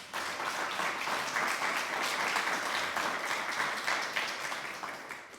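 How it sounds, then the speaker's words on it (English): A university awards ceremony audience applauds its award recipients. The clapping is sustained, even and steady, filling the room for about five seconds before beginning to taper off slightly at the end. "all of them deserve another great round of applause"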